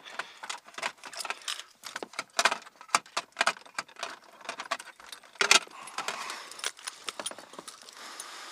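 A small bunch of keys jingles and clinks in quick, irregular bursts close to the microphone, with soft handling noise between shakes and no talking.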